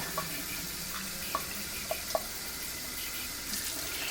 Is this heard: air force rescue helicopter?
no